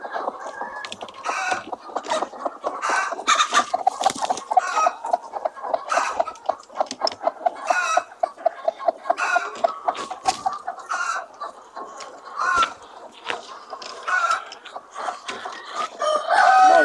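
Chickens and roosters on a poultry farm with hundreds of laying hens, a steady dense chorus of clucking with several roosters crowing repeatedly throughout, fairly close and without talk.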